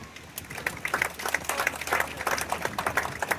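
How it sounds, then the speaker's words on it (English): Light, polite golf-clap applause from a small crowd at a KCBS barbecue competition awards ceremony, scattered rhythmic clapping that builds slightly and continues steadily. "Applaudissements de golf."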